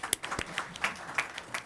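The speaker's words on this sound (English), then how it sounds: "Everybody give him a round of applause." An audience at a live county meeting gives a scattered round of applause for an arriving commissioner, with a handful of separate, uneven claps at moderate distance rather than a dense ovation.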